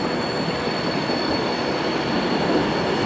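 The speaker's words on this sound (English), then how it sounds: "Here comes my next train. This is the 6:37 Virgin Pendolino service to Edinburgh." A Virgin Pendolino express train to Edinburgh rolls into a station with a steady, loud roar of wheels and motors and a thin high squeal, continuous throughout with no voices.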